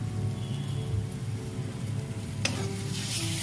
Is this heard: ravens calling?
no